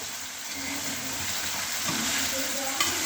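Cut, washed cabbage stalks fry in a pan with a continuous dense sizzle, close and fairly loud, while stirring adds faint scraping underneath.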